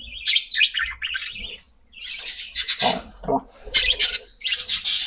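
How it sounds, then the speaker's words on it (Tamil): Caged lovebirds chirp and squawk loudly in rapid, overlapping bursts close by, with bright high calls coming in several clusters and short pauses between them. "இது சின்ன கொஞ்சம் கிளியான கையிலேயே பிடிச்சிட்டேன்."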